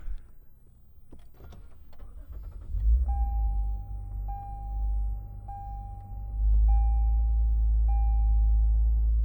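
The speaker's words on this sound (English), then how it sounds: "Now to start, very easy, foot in the brake. Start button's gonna be right there." A Lexus IS 350 F Sport sedan starts by push button: a few clicks and soft cabin sounds come first, then the engine turns over into a steady low idle while a regular chime beeps repeatedly.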